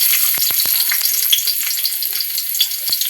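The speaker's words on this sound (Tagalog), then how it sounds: "So magluto na ta kay init ng mantika." Spices sizzle in hot cooking oil in a pan, a steady loud frying hiss with occasional crackles and pops, close and continuous with no talking.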